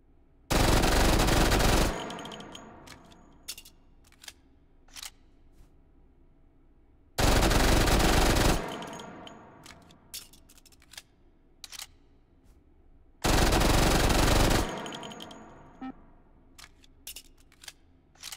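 A MAC-10 submachine gun fires in loud, dense full-auto bursts in a VR shooter, three bursts of about two seconds each separated by quieter mechanical clicks and handling noises.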